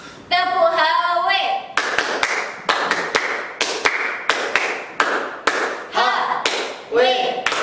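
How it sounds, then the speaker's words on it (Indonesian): A group does a rhythmic Hizbul Wathan scout clap, a chanted call giving way to a sharp run of loud, patterned claps in bursts, with voices shouting along between the beats. "Sebelumnya kita akhiri dengan tepuk HW dulu ya."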